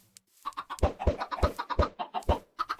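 Chickens clucking in the video game Minecraft, a run of short, punchy clucks and squawks in quick irregular succession, close and clear with no speech.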